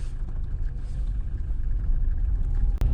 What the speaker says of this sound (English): there's another car coming.